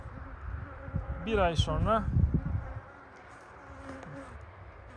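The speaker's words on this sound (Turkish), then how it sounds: "Arı geliyor, elime konmaya çok konuyor." Honey bees buzz around an open beehive during hive work, a faint continuous drone beneath a man's speech that fades into a quieter stretch of buzzing alone.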